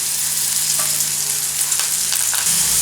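Onions, green chillies and curry leaves fry in a pan for a Telugu tomato curry, giving a steady, close sizzle throughout with a few faint stirring clinks and no talking.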